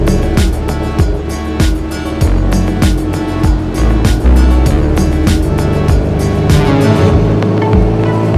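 A budget river boat in Thailand travels with its loud engine droning constantly. Water splashes and rushing wind sit close beside it throughout the ride.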